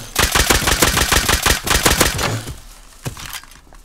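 Rapid, loud bursts of automatic gunfire in a video game sound close by and in quick rhythm, then fade into scattered single shots and a quieter tail.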